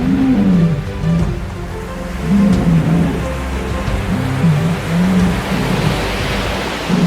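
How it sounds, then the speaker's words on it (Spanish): Sea lions roar repeatedly in a colony, deep, wavering bellows coming in several loud bursts over a constant rushing backdrop of surf or wind. "Los machos dominantes defienden su territorio con poderosos rugidos y batallas intensas."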